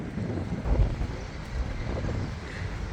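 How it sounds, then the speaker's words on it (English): Outdoors in Ebene, wind gusts against the microphone in a continuous low buffeting rumble, moderately loud, with no other sounds. "Windy as usual."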